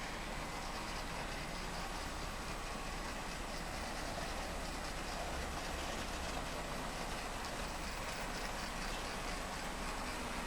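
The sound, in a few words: train running through turnouts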